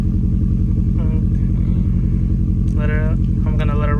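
A car engine idles with a steady, loud, pulsing low rhythm that stumbles from a cylinder 4 misfire. Someone talks briefly over it.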